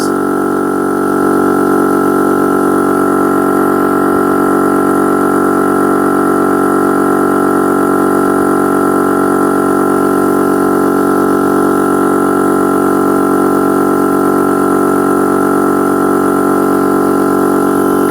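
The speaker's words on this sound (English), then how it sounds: "I'm sitting next to the pump right now, and it's like my other one, you know, it's just annoying. It's a high-pitched, loud noise." A Shark 2S rechargeable electric SUP pump runs steadily and close by, a loud, continuous high-pitched motor drone with no pauses, no talking.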